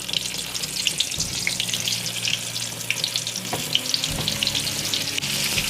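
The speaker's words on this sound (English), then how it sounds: "You know your grease is good when it sizzles like that." Flour-coated turkey breast sizzles in hot frying grease, a loud, steady crackling hiss close by with bursts of popping and a low rumble beneath.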